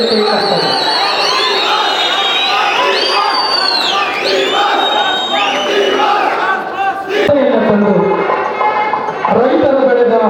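A large crowd cheers, whistles and shouts loudly and continuously at an outdoor public celebration of Ambedkar Jayanti in Nanjangud, with excited voices layered over the din throughout.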